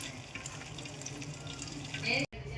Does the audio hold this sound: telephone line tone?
no